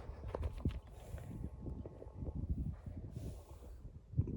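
A purebred Vladimir draft mare named Bukhta moves about, her hooves thudding in an irregular walking rhythm at close range, with occasional snorts and stable shuffling.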